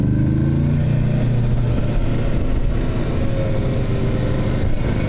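Motorcycle engine, one of a Kawasaki Versys 650, BMW F850GS Adventure or Honda Africa Twin climbing Mount Washington, drops from a steady drone as the throttle is released, its pitch falling through a constant loud hum with wind noise.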